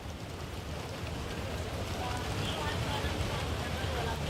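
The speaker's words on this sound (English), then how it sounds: "Sohail, there's heavy rain there in Singapore." Heavy rain pours steadily in Singapore during a large funeral procession, a dense, unbroken hiss that stays even and fairly loud throughout.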